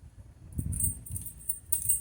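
A bunch of lock-picking practice keys jangles close by in short metallic bursts, with a brief shake near the start and another near the end, and no voices.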